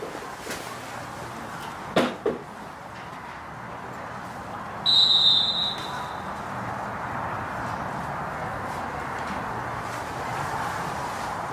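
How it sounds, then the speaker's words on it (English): A referee's whistle at a football match signals the start of a minute's silence, a single short shrill blast standing out over quiet crowd ambience, with a few brief knocks before it. "Starting and ending on the referee's whistle."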